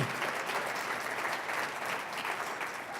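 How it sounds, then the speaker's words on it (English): Audience applause for Shelley at a community conversation on mental health, a brief, even burst of many people clapping heard from a distance at moderate volume. "let's give another round of applause to Shelley and what a terrific job she's done"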